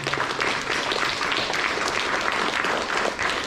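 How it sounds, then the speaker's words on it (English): Guests at a wedding reception break into continuous applause, a full room of hands clapping steadily and fairly close throughout. "give them a round of applause"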